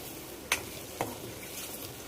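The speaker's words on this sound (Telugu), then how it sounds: "ఫ్రై అవుతున్నాయి ఫ్రెండ్స్ ఎగ్స్" Boiled eggs fry in hot oil in a pan with a steady soft sizzle, and two sharp scrapes or taps from stirring land half a second apart.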